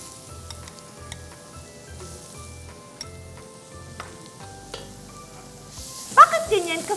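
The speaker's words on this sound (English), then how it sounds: "Add ko na po yung garlic." Finely minced garlic sizzling steadily in hot olive oil in a pan, a soft close crackle throughout, with a voice speaking briefly near the end.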